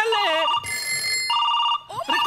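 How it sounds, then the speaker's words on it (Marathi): Several telephone bells ring in electronic trilling bursts, close and loud, with short gaps between rings and a voice speaking over them on a comedy stage show. "एवढे फोन का वाजतायत?"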